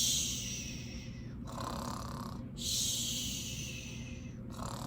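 A voice imitates a sleeping cat's snores, giving two slow, breathy snoring cycles of drawn-in snorts and airy exhales, close and soft, with no other sounds.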